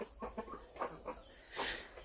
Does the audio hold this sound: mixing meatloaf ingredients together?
no